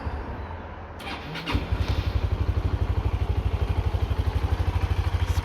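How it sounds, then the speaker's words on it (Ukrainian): A Yamaha Majesty S 155 scooter engine cranks for a moment and then settles into a steady, rapid idle putter, close by, with no voices. "Так, заводимо."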